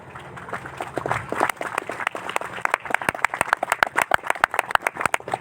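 A devotional gathering's audience claps, starting as scattered applause and building into loud, rhythmic unison clapping with sharp, evenly spaced claps close by.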